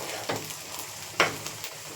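Chicken pickle frying in hot oil with garam masala: a close, steady sizzle broken by a few short stirring scrapes, one of them louder than the rest.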